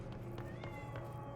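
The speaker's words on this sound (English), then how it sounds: "Ignore my cat. Hear her." A house cat meows several times in quick short calls, fairly faint and in the background behind a video game's sounds.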